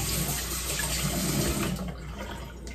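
A steady rush of running water from a tap while a face is wetted before bed. The water is loud and close, and it eases off slightly near the end.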